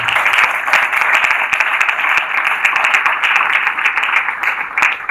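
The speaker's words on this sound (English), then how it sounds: "Please let's clap for one of you." Audience at an aviation careers conference applauding, a dense, steady wash of many clapping hands that stays loud and even throughout, with no voices on top.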